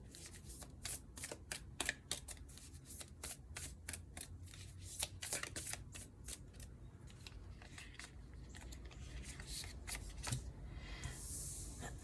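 Tarot cards being shuffled during a spiritual reading, a steady run of quick papery riffles and flicks lasting throughout, close and fairly quiet with no talking.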